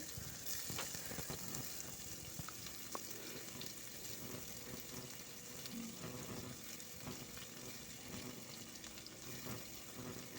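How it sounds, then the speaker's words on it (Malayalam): Sliced onion, green chili and ginger-garlic paste sautéing in a pan, a faint, steady low sizzle with occasional light stirring clicks and no speech. "ഇതൊക്കെ ചേർത്ത് നന്നായി വഴറ്റി വഴറ്റിയെടുക്കുവാണ്"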